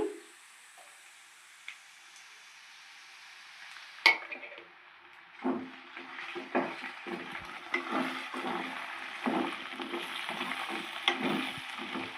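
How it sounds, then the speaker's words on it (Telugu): Ginger garlic paste and chicken pieces frying in a pan for chicken pickle, a soft steady sizzle broken by scraping, stirring knocks and utensil clatter against the pan, close and moderately quiet, with no talk. "అల్లం వెల్లుల్లిపాయ పేస్ట్ పచ్చి వాసన పోయేంత వరకు వేయించుకోవాలండి"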